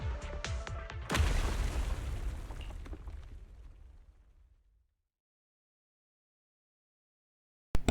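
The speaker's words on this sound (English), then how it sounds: "The explosion causes the surrounds to collapse." A loud explosion in the video game Zenless Zone Zero bursts out after a second of rumble, then a long rolling roar fades to silence around five seconds, followed by a sharp final crack near the end.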